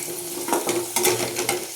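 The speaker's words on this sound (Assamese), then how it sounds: "অকণমান আলুখিনি ভাজি ল'ম" Potatoes seasoned with salt and turmeric fry in oil in a wok, with a steady sizzle broken by several louder scraping bursts as they are stirred.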